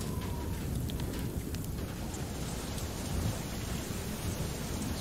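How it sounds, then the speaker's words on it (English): A thunderstorm rumbles in the video game FAR: Lone Sails, heavy rain and wind roaring steadily with deep thunder underneath and a sharper crack of a lightning strike early on. "We got hit by lightning."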